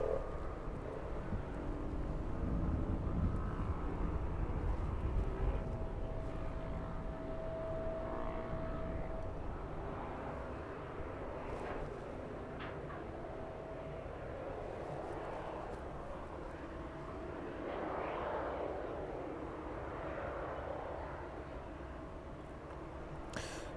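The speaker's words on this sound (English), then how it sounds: "So the 777 sounds like it's going to be departing to the north." Airliner jet engines on a Boeing 777 at East Midlands Airport give a steady, broad roar that holds for the whole stretch, swelling slightly at times, heard from a distance outdoors.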